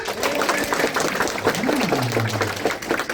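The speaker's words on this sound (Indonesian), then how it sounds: "Sekarang tepuk tangan buat Karangga" A community gathering applauds its participants with a continuous spatter of clapping, while a voice talks and murmurs over the top.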